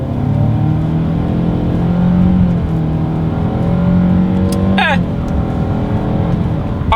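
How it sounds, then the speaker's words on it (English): A 2023 Nissan Rogue Sport accelerates hard from a rolling start, its engine note climbing steadily in pitch through the gear, loud and close, with a brief whoosh of wind or a passing sound near the end. "let's see how quickly we can get our new 2023 Rogue Sport here up to speed"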